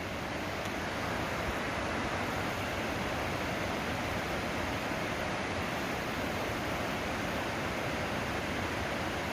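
Constant, loud roar of a massive waterfall at Steels Creek, North Carolina, a dense unbroken rush of falling water that holds steady throughout with no voices.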